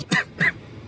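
Two short, sharp coughs close to the microphone at a gym, one right after the other, followed by quiet.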